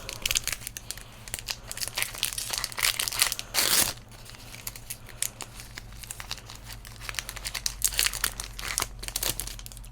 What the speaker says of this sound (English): as we open up the wonderful, wonderful packs of Innistrad Crimson Vow. First pack up.